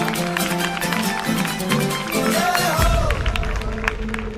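A group of people at an outdoor yoga session claps hands together loudly and continuously, a dense crowd patter mixed with voices and background music.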